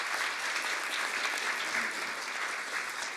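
Audience applause greets the chairman of the Korea Digital Media Content Association at a university student reporter corps launch ceremony, a steady dense clapping from a large crowd, loud and continuous throughout with no talk.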